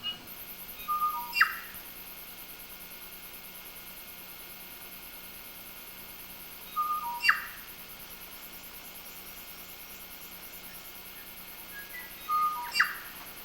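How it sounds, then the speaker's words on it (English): Unfamiliar wild birds sing in the New Zealand countryside: a distinctive call of rising chirps ending in a sharp squawk repeats three times at regular intervals of about six seconds, moderately close, over a steady background hiss. "I stopped often to listen to the bird songs, which were very strange songs to me"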